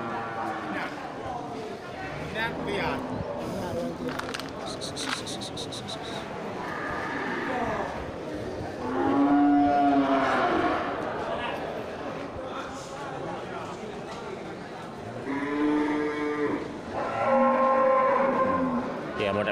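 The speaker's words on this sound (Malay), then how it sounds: "terlihat beberapa ekor sapi super" Several local cattle mooing at a livestock market stall, with repeated loud, drawn-out lowing calls close by over a busy background of crowd murmur and people talking.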